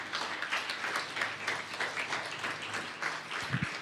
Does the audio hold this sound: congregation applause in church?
yes